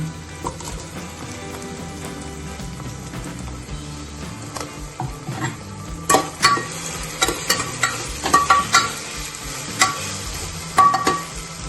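Potatoes sizzle in a pan with ginger-garlic paste for masala khichdi, a steady close frying hiss under repeated scraping stirs of a spoon that grow louder and more frequent in the second half, with no talking.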